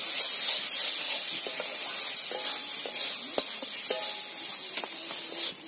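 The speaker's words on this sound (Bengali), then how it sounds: "দিয়ে আবার আমি একসঙ্গে নেড়ে চেড়ে কষে নেব" Ground roasted spices frying and being stirred in a pan for a gourd and fish curry, a steady close sizzle with scraping stir strokes and a few sharper clinks, no voices.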